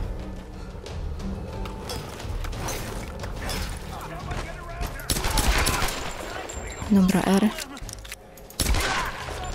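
Gunfire in the Tomb Raider video game: rapid bursts of shots and weapon mechanisms, loud and dense, punctuated by a few sharper blasts, with a player's voice talking over the action.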